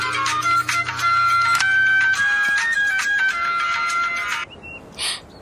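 An electronic ringtone plays a repeating melodic phrase, loud and tinny as if through a phone speaker, then cuts off, followed by faint brief tones.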